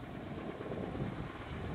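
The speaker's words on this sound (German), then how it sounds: "Wir haben hier den Helikopter eingesetzt" A helicopter lifts felled trees out of a forest near Gießen, Germany, making a steady, dense rotor and engine rumble that holds at an even level throughout, with no voices.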